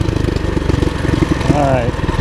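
A small Predator 212 single-cylinder engine in a Chinese ATV chugs with a pulsing mid-pitched beat, nearby and steady, while a voice talks over it briefly.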